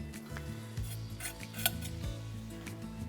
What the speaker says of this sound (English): Got all our ginger and garlic into there.